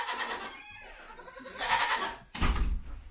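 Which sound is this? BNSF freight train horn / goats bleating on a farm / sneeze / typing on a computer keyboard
goats bleating on a farm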